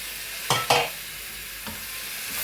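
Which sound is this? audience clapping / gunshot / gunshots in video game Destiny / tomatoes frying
tomatoes frying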